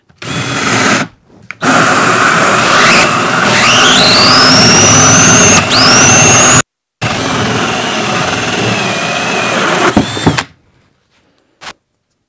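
A power drill whirs loudly and steadily as it bores a hole in wood for a bee swarm trap, its pitch rising as it bites in, with short pauses before it winds down and stops.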